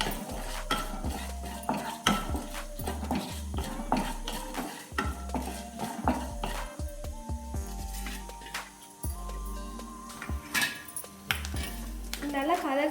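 Urad dal, peanuts and dried red chillies are roasted in hot oil, a spoon clinking and scraping against the pan in busy, irregular strokes over a low sizzle while a voice talks in places.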